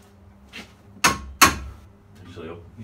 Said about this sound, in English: I might see if I can just knock out the rest of it with a hammer and maybe a chisel